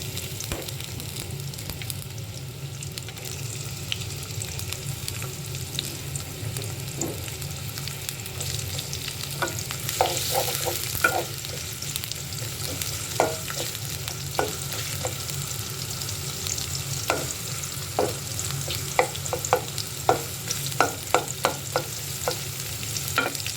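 Chopped onions sizzle steadily in hot mustard oil for a chicken tehari, a continuous close hiss broken by frequent scraping clicks of a spoon stirring the pan, with no talking.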